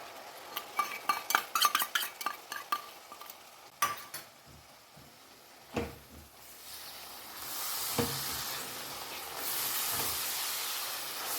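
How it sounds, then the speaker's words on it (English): Dry spice paste stirred in a pan with ginger and garlic for a jackfruit and potato curry, with scattered metal spoon scrapes and clinks giving way to a rising, steady sizzle and hiss of frying. "cook this till the raw smell of the ginger and garlic goes away. Add in the dry spice paste."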